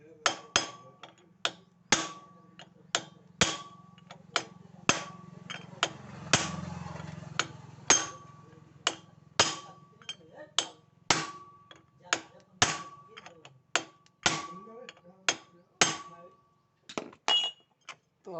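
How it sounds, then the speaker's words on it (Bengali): A chisel is struck with a hammer to tighten a bolt, where a wrench no longer grips: sharp metallic clinks ring out one after another at a steady pace, close and loud, over a low rumbling background. "তো আমরা ছেনি দিয়ে এটাকে লাগাবো, ছেনি দিয়ে আমাদের টাইট করতে হবে।"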